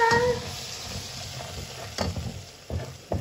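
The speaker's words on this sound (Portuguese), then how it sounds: "Fritando aquele alho." Garlic sizzles steadily in oil in a pan with scraping stirs and clinks of a utensil, close by.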